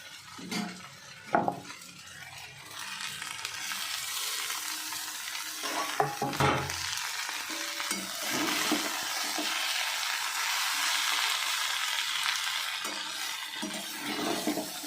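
Egg tossed into a pan of chowmein noodles, with a soft steady sizzle under repeated scraping and clattering of a spatula on the pan, plus a few louder knocks.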